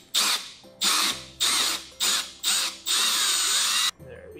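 A power drill bores into a pumpkin in five or six loud bursts, each rising quickly and cut off by a short pause, with the last burst running longest before the motor winds down.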